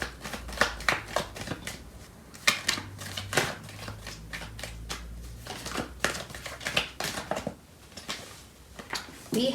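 Tarot cards being shuffled in a series of crisp riffling and flicking bursts with brief gaps between them, close up and fairly quiet, alone with no talk.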